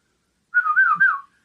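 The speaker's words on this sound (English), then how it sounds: "the way how I whistle, I have my tongue in between my molars." A person whistling with the tongue held between the molars gives one short, clear, wavering tone that rises and falls for under a second, close and loud against silence.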